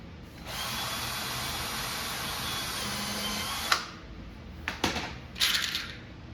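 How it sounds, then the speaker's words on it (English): A power drill whirs steadily at high speed for several seconds, then stops, followed by a few short clicks and rattles nearby. "So let me get my drill out."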